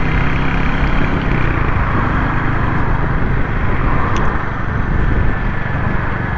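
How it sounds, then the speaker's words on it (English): A constant, loud engine drone with a low rumbling exhaust note from a Royal Enfield Hunter 350, heard continuously from close by, like riding the motorcycle at steady speed. "I certainly drown out my exhaust."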